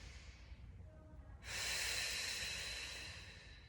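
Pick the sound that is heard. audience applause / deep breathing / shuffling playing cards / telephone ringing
deep breathing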